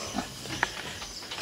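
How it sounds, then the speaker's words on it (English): A few short, low grunts from big fat pigs in a piggery at night, fairly close, with brief snorts over quiet background noise. "Here's all the big fat pigs."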